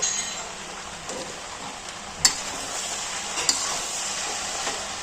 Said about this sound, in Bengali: নেড়ে চেড়ে মিশিয়ে নেব